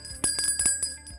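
A bright bell-like notification chime of the kind used for subscribe alerts rings several times in quick succession, with clear metallic tinkling tones, close and alone with no talking.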